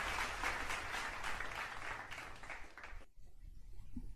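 Applause sound effect playing on a game stream, a steady wash of many clapping hands lasting about three seconds before cutting off to near silence.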